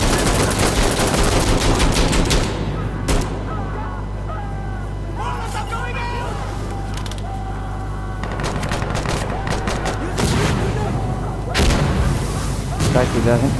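Rapid gunfire and machine-gun bursts crack loudly in Insurgency: Sandstorm, with dense volleys at the start and end and scattered single shots in between, while someone talks over part of the action.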